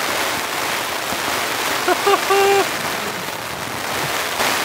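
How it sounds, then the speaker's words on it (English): Heavy rain pours steadily onto camping tarps during a rainstorm with strong winds, a dense continuous hiss close around, with a brief voice rising over it partway through. "That's a lot of rain."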